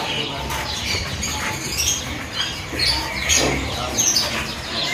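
Several zebra doves (perkutut) chirp and coo close by in cages at a bird market stall, with brief flutters of wings over a busy background murmur.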